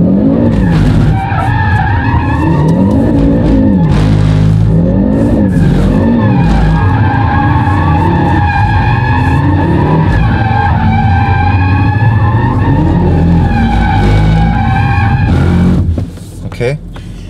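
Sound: Audi RS3 8Y drifting in circles, tires skidding

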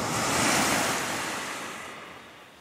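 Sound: ocean waves at a beach in Halifax, Nova Scotia

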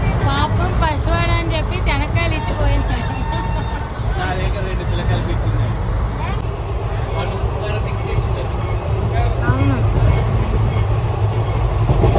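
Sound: passenger train arriving at station

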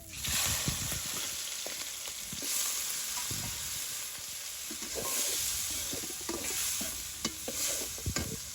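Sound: chaiya fish frying in oil

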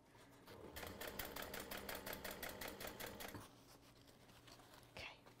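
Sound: sewing machine stitching fabric

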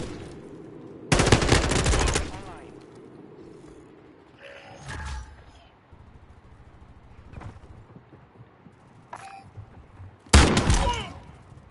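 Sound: gunfire in the video game Call of Duty MW2

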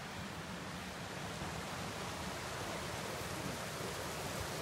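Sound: creek water flowing in Olympic National Forest

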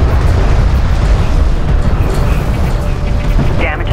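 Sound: carrier turret under fire, explosions, from Homeworld: Deserts of Kharak video game

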